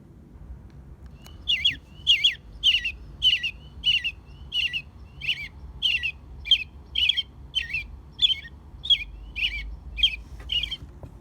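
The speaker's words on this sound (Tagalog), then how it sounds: "American robin." An American robin gives a run of about fifteen sharp, evenly spaced chirping notes, clear and fairly close over a low rumbling background with no voices.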